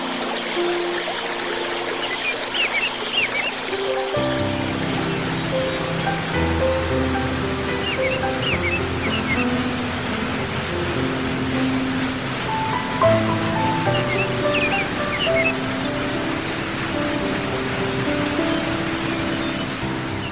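A cascading 30-foot waterfall on the Kukulekanga River roars in a steady, dense wash of rushing water, continuous and fairly loud throughout, with no voices.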